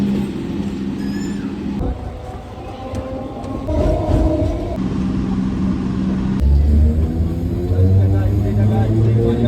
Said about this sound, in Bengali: এখন সামনে ওরা ট্রেন ঢুকছে